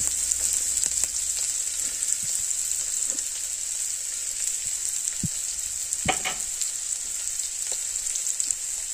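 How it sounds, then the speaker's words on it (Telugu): Onion pieces fry in hot oil for a broad bean and cluster bean dish, giving a steady, bright sizzle with occasional soft pops and clinks, continuous and close, with no voices. "ఆయిల్ వీటెక్కాక ఇలా ఉల్లిపాయ ముక్కలు వేసుకోండి."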